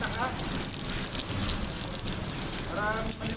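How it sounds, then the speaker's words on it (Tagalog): Steady rain patters densely on surfaces outdoors, a constant wash of noise throughout, with faint voices talking briefly underneath. "Yan na, umulan na rito."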